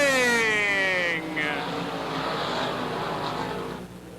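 Late model stock cars roar off the start of a heat race at a 1987 NASCAR Winston oval, engines loud and near with a falling pitch sweep as they pass, then a sustained crowded roar.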